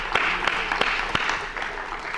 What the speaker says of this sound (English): Let's give one big round of applause to all of our speakers one more time for coming up here.